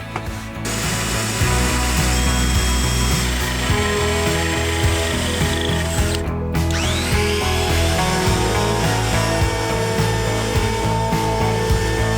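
A power drill whirs steadily and loudly up close, drilling a hole in a wooden bench in a Sprinter van, briefly cutting out and spinning back up partway through before running on.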